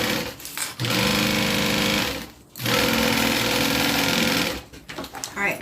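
A domestic sewing machine sews the bottom onto a bag, in loud, rapid mechanical bursts of stitching with two brief stops between runs.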